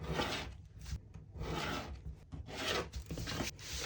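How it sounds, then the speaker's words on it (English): A pencil dart line being rubbed out on a paper dress pattern, a soft close scratchy rubbing in quick back-and-forth bursts with brief pauses, quiet and alone. "then I'm going to rub the existing dart out"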